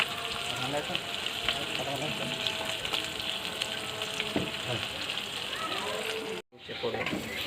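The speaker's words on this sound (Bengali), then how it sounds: "এখন ভাজছি, ইলিশ মাছটা ভেজে নেব" Hilsa fish fries in a pan with a steady crackling sizzle, briefly cut off near the end before resuming; people can be heard talking over the frying.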